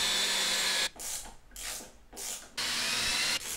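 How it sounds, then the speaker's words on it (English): A power drill whirs in short repeated bursts, driving screws into the wooden panels of a dance pad, close and loud with brief pauses between runs. "drill one, screw in, drill the other, screw in"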